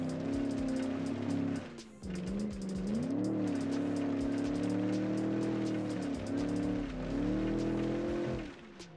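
A 1973 land yacht, a big oil-crisis-era car, runs with a loud, steady low engine drone. It briefly dips near the two-second mark, then holds on with slight revs and wavering pitch.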